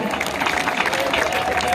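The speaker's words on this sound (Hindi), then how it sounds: "ताली फिर भी बहुत कमजोर है।" An audience at a live Chhattisgarhi comedy and poetry show at the Mahtari Mahotsav festival in Mungeli gives a brief, thin round of clapping, with a murmur of crowd noise.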